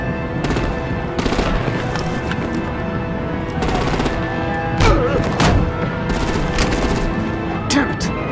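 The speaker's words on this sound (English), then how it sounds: "Break out the artillery and disable their vehicles!" Rapid machine-gun bursts and heavy gunfire crackle through a Batman video game battle scene, loud and dense with repeated volleys and occasional thumping impacts over a steady din.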